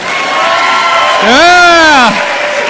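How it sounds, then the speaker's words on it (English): An audience at a sales keynote claps and cheers, steady clapping carrying a loud rising whoop from one voice in the middle, the crowd noise close and sustained throughout. "Clap if you think we're in a celebration"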